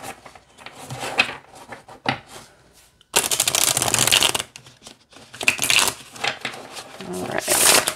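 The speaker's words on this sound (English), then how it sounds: "All right, let's see how it shuffles." A tarot deck is riffled and shuffled up close in bursts of dense papery flutter, with a short pause between shuffles and a quiet voice speaking briefly near the start.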